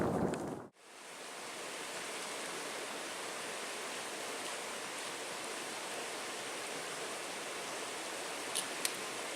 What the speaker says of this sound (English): And now we got some wind, of course.